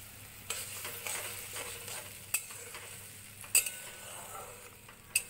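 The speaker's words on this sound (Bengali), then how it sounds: "মশলাটা ভালোভাবে কষিয়ে নেব।" Spice paste with turmeric and cumin powder sizzles in a pan while a spatula stirs it, giving soft continuous frying with occasional sharp metallic clinks and scrapes, close and quiet, with no voices.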